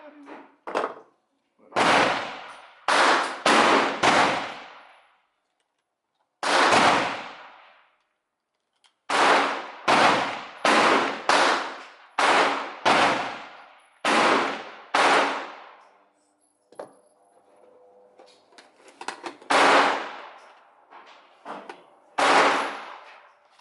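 Single gunshots from a Magguts-fed gun being test fired ring out loud and sharp in uneven bursts of several shots, with short pauses between groups and faint talk in the gaps.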